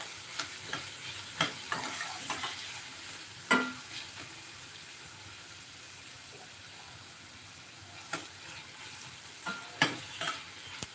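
Onion frying in a pan hisses softly and continuously while a spoon stirs it in occasional sharp scrapes and clacks, some clustered and others spaced apart, with no voices.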